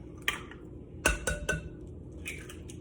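Eggs being mixed into a sugar mixture for biscotti dough, heard as a few sharp clinks and taps of utensil against bowl, close by, with soft scraping in between and no talking.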